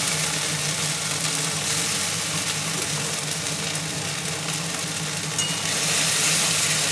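Ginger, garlic and onion paste is stirred in a frying pan, producing a loud, continuous close sizzle with a steady low hum underneath and no talk.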